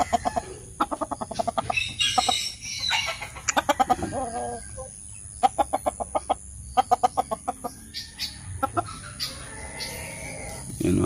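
Backyard chickens cluck in quick rhythmic bursts close by, with repeated sharp clucking runs and some calmer murmuring in between.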